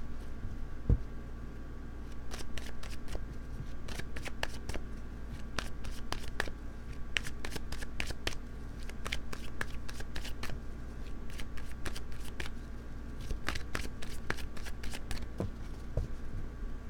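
A deck of tarot cards being shuffled continuously and close up, a dense papery riffle and flutter running steadily with a crisp repeated snap of cards, over a constant low hum, with no talking.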